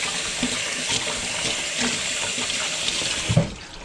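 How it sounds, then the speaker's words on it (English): Tap water runs steadily from a kitchen faucet during hand washing mid-cooking, a continuous close splashing hiss with a brief louder splash near the end as the flow changes. "I have to wash my hands."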